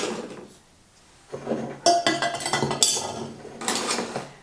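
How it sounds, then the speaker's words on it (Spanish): Ice cubes clatter and clink into a jug of agua fresca in a quick burst of hard knocks, followed by more rattling a moment later, close and fairly loud. "Ahora aquí en la jarra vamos a agregarle unos hielos."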